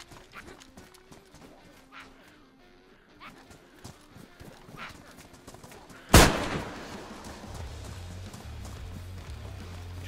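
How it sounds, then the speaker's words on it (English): A single sharp gunshot cracks out midway through quiet DayZ game sounds, followed by a low steady rumble. "Did you hear that gunshot?"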